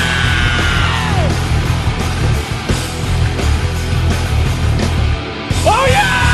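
A large rock concert crowd at a show at Rock in Rio in Rio de Janeiro yells and screams in a loud, sustained roar, with band sound and a singer's voice over it.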